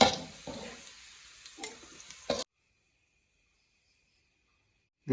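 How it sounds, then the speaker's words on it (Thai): Garlic frying in oil for Northern Thai tilapia larb crackles and sizzles up close with a few stirring scrapes for about two seconds, then the sound cuts to silence. "กระเทียมเจียวนะครับ ก็กำลังเหลืองพอดีเลยนะครับ"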